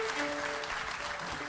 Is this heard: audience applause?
yes